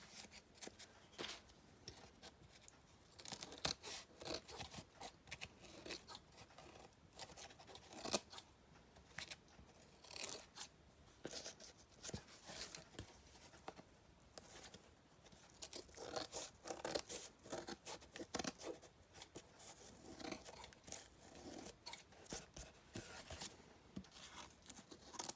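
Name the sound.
trimming a vintage book, cutting with scissors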